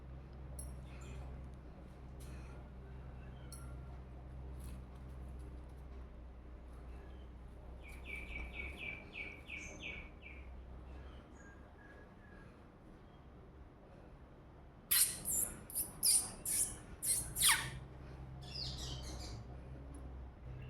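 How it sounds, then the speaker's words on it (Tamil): A house sparrow chick chirps in two bursts: a short run of quick, thin calls partway through, then a louder cluster of sharp chirps near the end, over a low background hum. "அந்த குருவி குஞ்சு வெளியே வரும்."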